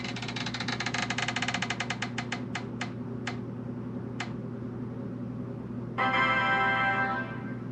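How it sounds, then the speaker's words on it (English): A board game's spinner wheel whirs and clicks rapidly at first, then the ticks slow and space out until it stops, all over a steady low background hum. "Spinner wheel."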